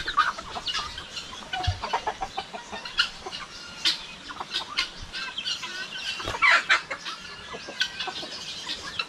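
Guinea fowl on a rural Philippine farm give repeated sharp, raspy clucking calls in irregular bursts, fairly close, over faint outdoor background.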